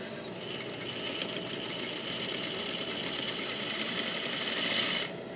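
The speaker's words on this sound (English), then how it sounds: "I'll sew a perfect quarter seam" A sewing machine stitches a quarter-inch seam on a skirt, whirring steadily for about five seconds with a fast mechanical needle rattle, then stopping abruptly. Close and loud, with no talk.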